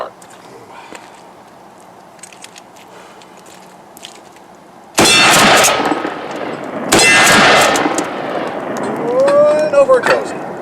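A Mossberg Shockwave shotgun, fitted with a Leapers UTG green laser sight, fires two loud, close blasts a couple of seconds apart. Each shot rings on noisily afterward, following a quieter stretch of faint background talk.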